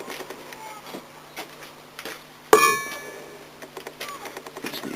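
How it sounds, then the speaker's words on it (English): A hammer strikes a homemade steel anvil once, giving a sharp, ringing clang that decays slowly, amid quiet background sounds and a few soft taps before and after. "hold the hammer down when you hit it onto the anvil"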